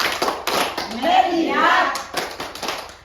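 A classroom of students performs a rhythmic focus clap, sharp group claps in a patterned sequence alternating with the class chanting together.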